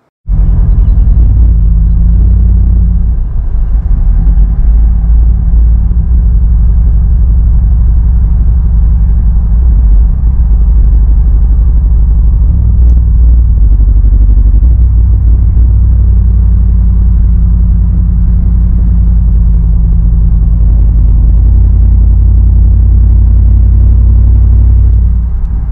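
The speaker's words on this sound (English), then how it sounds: "It's just got this weird, loud four-cylinder drone to it." A 2019 Chevrolet 5.3L V8 running in four-cylinder mode gives a loud, steady, low droning rumble inside the cabin, constant for the whole stretch with no talking.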